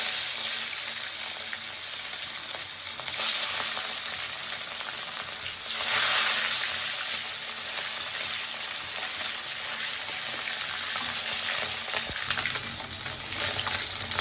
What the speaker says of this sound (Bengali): এই তো মাছগুলি ভাজা হয়ে গেছে